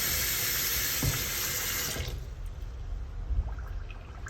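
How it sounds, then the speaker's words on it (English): A two-handle faucet runs water into a sink in a steady, hissing rush for about two seconds, then shuts off, leaving quiet room sound with a few faint drips and clunks. "Turn those faucets on."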